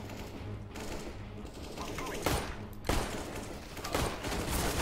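Gunfire in Counter-Strike: GO, sustained bursts of rapid automatic shots with sharper single cracks, loud and continuous over several seconds.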